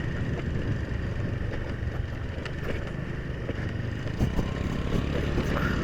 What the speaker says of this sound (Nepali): यो स्कुटरको एकदम आवाज आउने भएर आएर सर्भिसिङ गरेर लानु पर्ने छ अगाडिको बुस गयो क्या